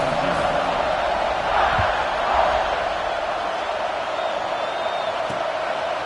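A stadium crowd at a Seahawks football game roars steadily just before kickoff, a broad, distant wash of cheering that holds at an even level throughout with no single voice standing out.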